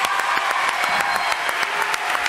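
Studio audience applause for Annie Pujol on a French TV talk show, a loud dense burst of clapping from a close crowd, sustained and even for a couple of seconds.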